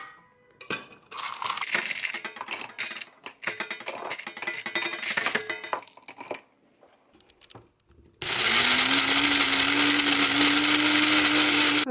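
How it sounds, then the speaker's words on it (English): A blender grinds cooled brownies into powder. Rattling, crunching chops come first, then a pause, then a loud, steady high-speed whir up close. "I'm just gonna put them in my blender and blend them up to make a powder"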